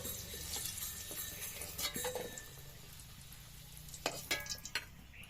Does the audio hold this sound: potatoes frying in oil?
yes